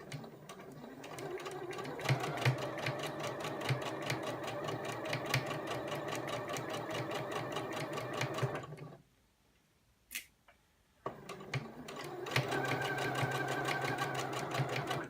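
A sewing machine stitches a seam in fabric with a fast, steady mechanical chatter, stops briefly for a few seconds of near silence broken by a small click, then runs again at a steady pace.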